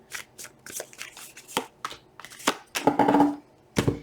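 Tarot cards riffled and shuffled by hand in quick bursts of crisp flutters and taps, close and clear, with a longer riffle near the end.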